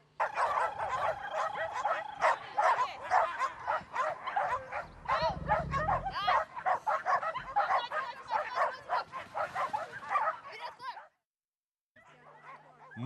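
Dogs at an agility competition bark excitedly in rapid, overlapping yips and woofs, close and loud, with crowd noise and shouting beneath, before a brief silence and a short tonal sound at the end.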